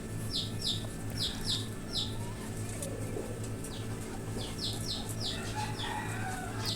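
Many caged chickens in a small room cluck and chirp in short repeated bursts over a steady mechanical hum, fairly faint and somewhat distant, with no talking.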